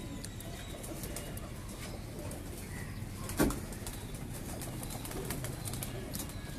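Pigeons on a rooftop loft, prized long-distance flying birds, give soft cooing amid steady outdoor background noise, with a brief flutter or thump near the middle.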